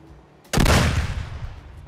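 A single loud, close gunshot in Escape From Tarkov fires half a second in, its broadband blast ringing out into a long rumbling tail that fills the rest of the moment.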